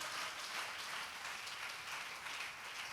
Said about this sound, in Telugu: బిగ్గరగా చప్పట్లు కొట్టు